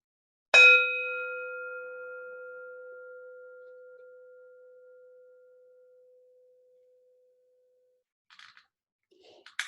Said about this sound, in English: we begin our worship with the sounding of the morning bell